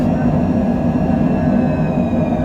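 A jet takes off from a short runway in Microsoft Flight Simulator 2020, a steady, loud engine roar with a thin whine running over it throughout.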